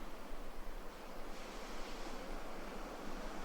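Ocean waves at dawn in Bali wash steadily in a soft, continuous surf hiss, faint and even with a gentle breeze, without voices.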